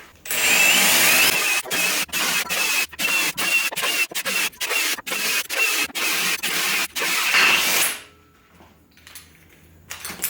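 A carbide-tooth hole saw grinds loudly and continuously through material, the whine broken by a rapid series of brief pauses, then cuts off and leaves near silence with a faint knock at the end.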